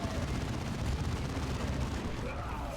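Dense, continuous gunfire and explosions in the strategy game Dawn of War 2, a loud unbroken barrage of shots and blasts, with no voices.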